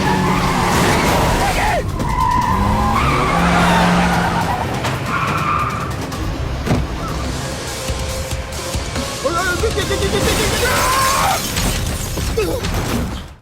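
A film car chase with a ninja motorcycle: loud engines, tire skids and squeals, and a sharp crash-like hit, with voices mixed in over the continuous roar.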